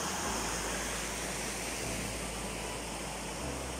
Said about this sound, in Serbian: Evo vodopada